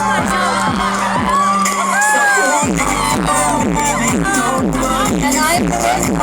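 Crowd at a Miss and Master 2022 pageant cheering and whooping loudly for a prize winner, with music beating steadily underneath and voices shouting throughout.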